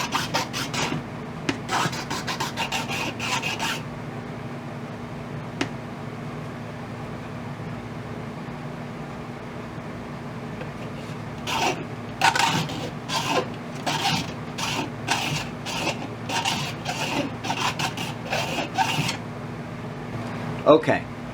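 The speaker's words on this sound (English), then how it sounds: "we're going to move on to the file. First thing I'm going to do is just do my finish work on this cut here." Hand file rasping the hacksawed cut edge of a brass shotgun shell smooth, a steady run of short strokes in the second half, close and clear after a quieter stretch with a few scattered scrapes.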